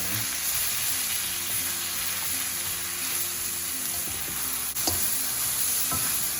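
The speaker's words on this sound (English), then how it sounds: "I'm going to keep stir frying this" Pork and Asian vegetables sizzle steadily in a hot pan, with occasional scraping and tossing sounds as they are stir-fried, close up and without talk.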